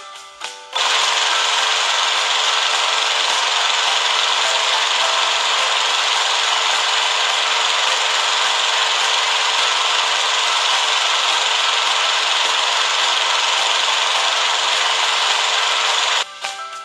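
A lawn mower runs in a cartoonish school-cleaning makeover game, giving a steady, loud, buzzy mechanical whir that holds unbroken for about fifteen seconds and then stops abruptly.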